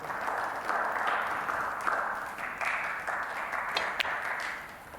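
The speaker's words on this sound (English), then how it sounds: "that shot deserved applause" A snooker crowd applauds a well-judged shot by Mark Williams at the English Open, a steady wash of moderate clapping lasting several seconds and fading toward the end.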